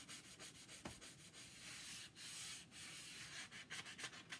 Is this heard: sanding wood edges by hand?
yes